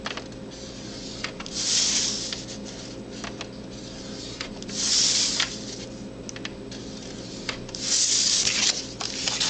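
Bone folder or scoring tool drawn along square cardstock for a tissue box cover, three soft scraping strokes spaced a few seconds apart over a quiet room hum, close and fairly faint.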